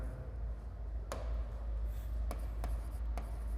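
Pen or chalk strokes sound during a mathematics lecture on hydrodynamics, faint scratchy writing with a few sharp taps, over a low steady hum.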